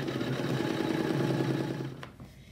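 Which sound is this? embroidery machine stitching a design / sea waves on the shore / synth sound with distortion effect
embroidery machine stitching a design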